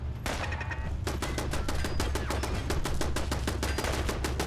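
Rapid automatic turret fire in Fallout 4 rattles in a dense, loud burst of evenly spaced shots that runs nearly nonstop, with a brief pause early on.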